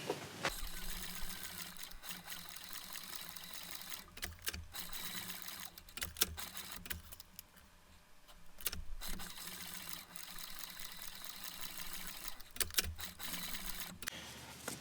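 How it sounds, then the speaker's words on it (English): Sewing machine stitching straps for a simple handmade leather briefcase, a steady mechanical whir with rapid needle clatter running almost continuously, with brief pauses and a short dip in the middle. "now we'll take these to the machine and we'll get them sewn up right quick"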